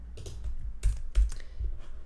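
Typing on a computer keyboard produces a short run of close, distinct key clicks at an uneven pace, with a few sharper, louder taps and no talking.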